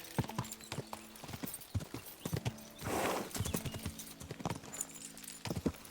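Horse hooves clip-clopping in Kingdom Come Deliverance 2, quick close rhythmic steps with a brief noisy burst midway, faint at moderate level, no talking.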